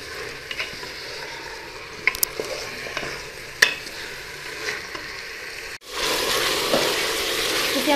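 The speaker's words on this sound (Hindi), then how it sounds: "इसे हमने अच्छे से चला लिया" Chopped mixed vegetables are stirred in a pot for vegetable pulao, with scattered spoon clinks and scrapes over a sizzle that turns into a louder, steady frying hiss near the end.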